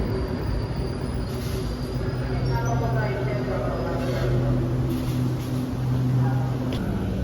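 An LRT-1 light rail train rumbles past steadily with faint wheel squeal and metallic rail noise, continuous and fairly close, while voices murmur underneath.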